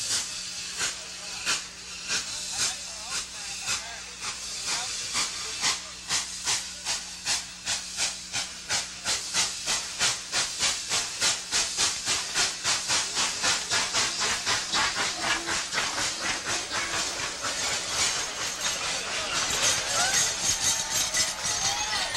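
The Dollywood Express steam train at the Tennessee theme park chuffs in a steady rapid rhythm of loud, breathy hisses that continue without a break for a long stretch.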